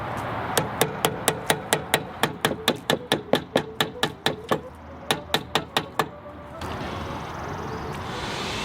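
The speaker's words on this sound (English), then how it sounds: "You could just tap it in with a hammer." Rapid, evenly spaced metallic hammer taps on a brake part of a 2019 Jeep Grand Cherokee ring out in a long series, a brief pause, then a few more strikes before fading into background noise.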